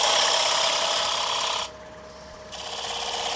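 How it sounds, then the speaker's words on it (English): A gouge cutting a wooden chopstick rest on a lathe, a dense steady rasping scrape that stops abruptly for about a second, leaving a quiet hum, then resumes more softly, close and without talk. "Give it a gouge, gently go along."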